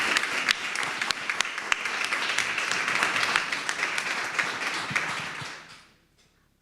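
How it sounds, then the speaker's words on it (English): A forum audience applauds a group at a health system event, loud dense clapping that holds steady for about five seconds and then fades quickly to near silence. "Let's give another big round of applause to our FAC group before they leave."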